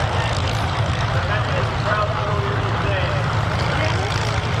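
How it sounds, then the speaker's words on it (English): Avro Lancaster four-engine propeller bomber flying at the Oshkosh AirVenture 2024 airshow, a loud, steady, deep engine drone filling the clip without a break. "Oh, it's a Lancaster, yes."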